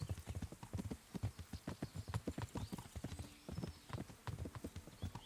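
Horse hoofbeats from riding in the video game Kingdom Come: Deliverance, a fast, steady clip-clop of hooves at moderate distance, heard alone and fairly quiet.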